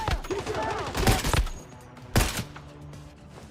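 Gunfire in the survival shooter Once Human: a cluster of sharp shots around the first second, then a single loud report a moment later, with faint background sound between them.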